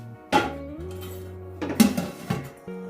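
A metal stand is set down inside a cooking pot and a lid goes on, giving a few close metallic clanks and rings with short rattling scrapes between them.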